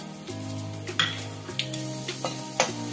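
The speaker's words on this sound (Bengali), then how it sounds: "তেলটা গরম হয়ে গেলে আমি গরম মশলা আর তেজপাতা ফোড়ন দিয়ে দেব" Whole garam masala and bay leaves sizzling in hot oil for chicken curry, a steady fry with a low background hum and several sharp clinks and scrapes of a spoon against the pan.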